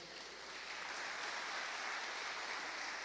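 A church congregation applauding during a sermon, a steady, dense wash of clapping that holds at an even level throughout with no voices over it.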